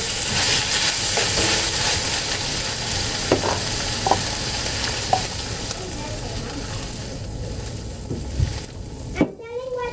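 Vegetables and pork cooking in a home pan for Filipino egg noodles (pancit), giving a steady broadband sizzle with occasional stirring clinks, then a sharp burst near the end, with faint talk in the background.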